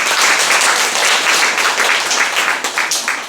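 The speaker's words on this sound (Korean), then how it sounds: "다시 한번 큰 박수" Enthusiastic audience clapping fills a literary award ceremony hall, loud and continuous before tapering into scattered claps near the end.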